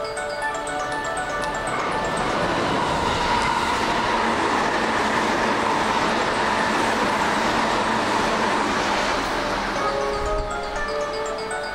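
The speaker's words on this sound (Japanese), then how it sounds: "4番乗り場を電車が通過します。" A train roars steadily past a station platform at close range without stopping, a continuous loud rush of wheels and rumbling carriages with faint high squeals, no voices.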